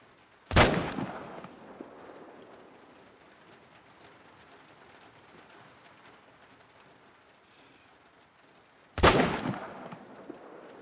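Two loud, sharp shots from an M1 Iwaniec semi-automatic rifle in theHunter: Call of the Wild, spaced several seconds apart, each cracking close and trailing into a long rumbling echo over steady ambient hiss.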